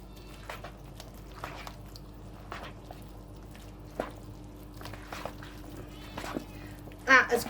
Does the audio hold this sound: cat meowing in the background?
yes